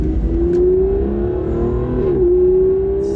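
An Aston Martin Vanquish Zagato Shooting Brake engine revs loudly and steadily, its pitch climbing smoothly, dipping briefly, then rising again in a close, throaty roar.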